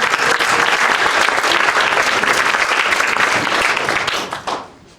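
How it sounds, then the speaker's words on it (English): An audience at a community beautification summit breaks into loud, full applause, a dense sustained roar of clapping that holds steady before tapering off quickly at the end. "Give him an enormous round of applause."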